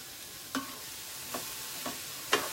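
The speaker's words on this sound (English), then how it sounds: "You can hear the cauliflower kind of sizzling back there." Cauliflower sizzles softly in a heated pan while cooking a stir-fry, a quiet steady hiss broken by a few brief stirring clinks and scrapes, with no talking.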